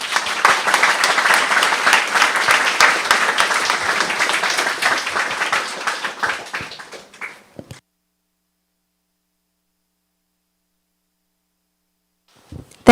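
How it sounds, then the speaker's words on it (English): Audience applause at a buildathon event, loud and dense for about six seconds, then tapering off into silence with a brief sound near the end. "Another round of applause for Andrew."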